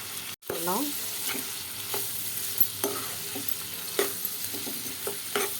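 Country chicken curry being stirred in a pan, a spoon scraping and turning the pieces in short repeated strokes over a steady sizzle of frying, with no talking.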